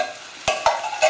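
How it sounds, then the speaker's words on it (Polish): Garlic and tomatoes fry in a pan with a steady soft sizzle, broken by three quick stirring scrapes of a utensil, close and fairly loud. "wrzucam czosnek, odrobinę go podsmażę."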